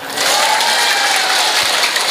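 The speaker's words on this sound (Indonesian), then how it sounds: "Tepuk tangan semuanya." A crowd at a mosque gathering for the Prophet's birthday celebration claps together, a sudden full burst of hands that holds steady and loud for about two seconds.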